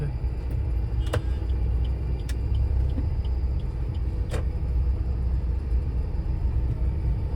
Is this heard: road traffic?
yes